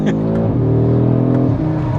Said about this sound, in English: when you get the revs right up, it will do like a woo woo woo